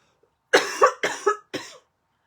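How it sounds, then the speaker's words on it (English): Three bursts of harsh coughing, the first two doubled, each a quick rough hack followed by silence. "And I apologize for the coughing, but I can't help it."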